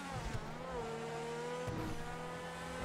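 A steady, powerful sports car engine drone from GTA 5 Online, the De Tomaso P7 (Tigon), with rising and shifting revs, constant and fairly loud, with no voices.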